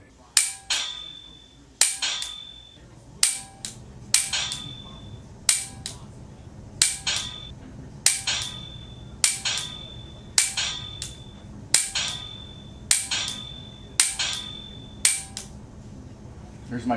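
Dry-fire trigger clicks on a handgun with a laser training system, a steady series of sharp, close clicks about a second apart, each followed by a short electronic feedback tone, with no talking.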